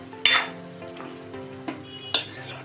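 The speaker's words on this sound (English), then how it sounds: "after adding the salt, you have to mix." Tomato chutney with added salt being stirred in a pan, a few scraping clinks of a spoon against metal over a low steady background, close and moderately loud.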